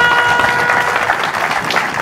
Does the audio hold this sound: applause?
yes